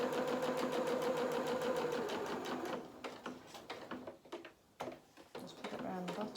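Sewing machine stitching fabric pieces for a toy rabbit, a fast even whir for the first few seconds, then stopping into scattered clicks and handling knocks with a short burst of stitching near the end.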